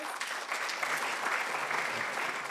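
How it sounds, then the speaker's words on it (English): A student audience at a business-school conference claps steadily for a few seconds, a dense, even burst of applause with no pauses. "Can we have a round of applause?"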